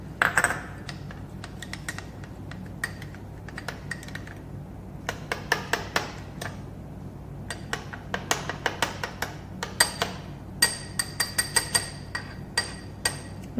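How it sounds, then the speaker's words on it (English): Palm sugar being stirred into a mashed banana and chickpea mixture in a bowl, heard as a scatter of light tapping and clinking scrapes from the utensil against the bowl, growing busier and more rhythmic toward the end. "I'm now going to mix the brown sugar into it."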